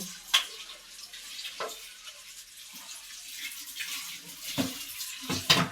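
Cooking pot being scrubbed and rinsed with running water, with intermittent splashes and clanks of metal against a sink, close by and moderately quiet.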